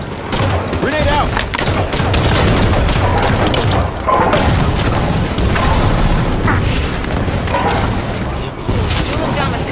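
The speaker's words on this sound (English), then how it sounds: "Grenade out!" Gunfire and grenade explosions fill a Halo 5 Warzone battle: heavy booms and rapid volleys of shots, loud and continuous, with voices calling out over the combat.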